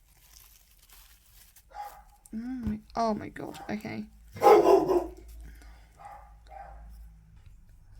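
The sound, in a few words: dog barking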